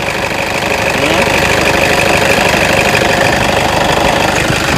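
A Toyota Innova G with a 2KD turbo diesel engine runs hot at idle, a loud, steady, close diesel clatter with a rough knocking edge and constant low vibration and no pauses.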